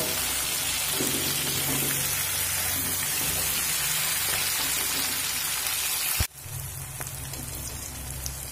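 Beans and potato fry with onion, garlic, turmeric and salt over a medium flame, a loud close continuous sizzle that cuts off abruptly near the end, then resumes more quietly.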